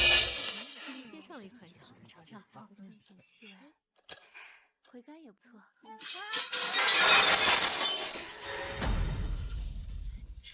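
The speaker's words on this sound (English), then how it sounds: "It's just a few broken glasses." A tall tower of winery wine glasses collapses with a loud, bright crash of shattering and tinkling glass, heard after a stretch of speech and followed by a low thump as the shards settle.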